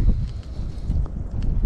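Steady, loud wind rushes by a river bank in cold weather, buffeting the microphone with a low, continuous roar and no talking.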